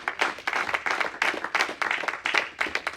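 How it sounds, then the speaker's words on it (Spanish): A church congregation applauds, a loud, steady roll of many hands clapping at close range for the full few seconds. "Le damos un aplauso fuerte al Señor."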